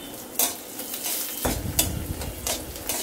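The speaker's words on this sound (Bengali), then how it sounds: "দিয়ে দিলাম রসুন কুচিগুলা। এখানে আমার একটার বেশি রসুন আছে, একটু ভেজে নিব।" Chopped garlic sizzles in hot mustard oil, with a few sharp utensil taps and stirring scrapes against the pan over a rising frying hiss, close and fairly loud, with no voices.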